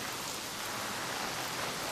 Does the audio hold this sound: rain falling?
yes